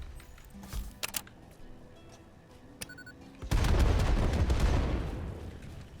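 Nobelisk explosives in Satisfactory blast apart rocks: a few scattered clicks and small pops, then a loud, heavy detonation that roars and slowly fades away.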